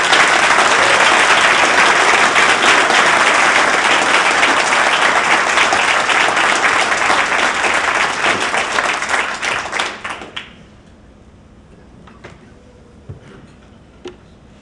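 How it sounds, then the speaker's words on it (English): Loud, dense applause from a tech event audience roars steadily for about ten seconds, then cuts off abruptly, leaving a quiet room with a few stray sounds. "Big round of applause."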